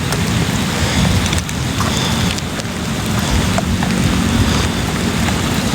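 Heavy rain pours steadily at a cemetery at night, a dense continuous wash with gusty wind buffeting the microphone and faint thunder-like rumbles throughout, no voices.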